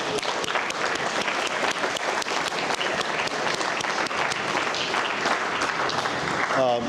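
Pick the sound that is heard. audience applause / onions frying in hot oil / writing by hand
audience applause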